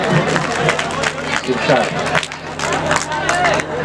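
Audience applause at a mushaira poetry gathering, loud sustained clapping from a large crowd with cheering and babble mixed in, continuous through the moment.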